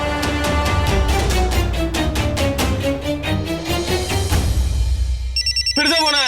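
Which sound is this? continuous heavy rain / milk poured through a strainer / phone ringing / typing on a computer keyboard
phone ringing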